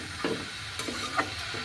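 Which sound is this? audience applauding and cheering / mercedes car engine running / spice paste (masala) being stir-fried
spice paste (masala) being stir-fried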